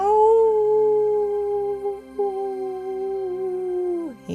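A long, mournful dog-like howl holds a steady pitch, briefly breaks, then slides downward at the end, likely a human voice imitating it.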